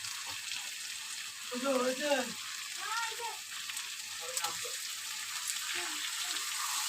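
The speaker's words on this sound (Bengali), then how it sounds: "মাছগুলো দিয়ে আমি একটু কষিয়ে ঢাকা দিয়ে দেবো সিল করে" Fish sautés in spiced masala with a soft, steady sizzle and occasional clicks of stirring, while a voice speaks briefly over it.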